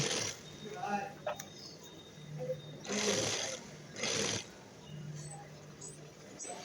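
A sewing machine stitches palazzo pants in short runs, its motor hum rising in bursts between pauses, with quiet speech over the top.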